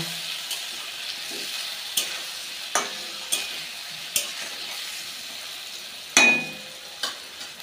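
Ingredients for rui fish curry with drumsticks and potato being sautéed in a pan with salt, a soft sizzle underneath sharp, irregular scrapes and knocks of a spatula stirring, one louder clatter near the end.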